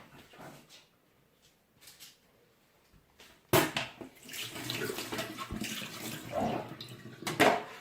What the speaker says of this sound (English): I'm squeezing the coconut. I can get the milk.